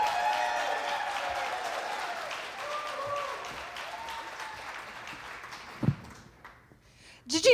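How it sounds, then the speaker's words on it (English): Audience clapping at a storytelling festival, a dense round of applause that gradually thins and fades, followed by a couple of brief sharp sounds near the end. "Please, a round of applause for Kate Bolz."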